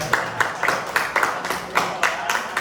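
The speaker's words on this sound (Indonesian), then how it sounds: "tepuk tangan dulu dong" A school class claps hands together in a quick, rhythmic pattern of sharp bursts, with brief voices mixed in.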